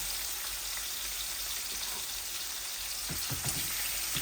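Pieces of rui and tilapia fish, heads included, fry in hot oil with a dense, steady sizzle throughout, with a few louder crackles and pops near the end.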